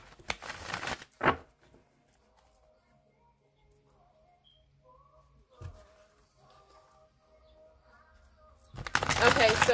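A deck of tarot cards is shuffled in short, close, crisp bursts: two quick riffles at the start, a long quiet stretch with a faint voice, then a louder, longer shuffle at the end.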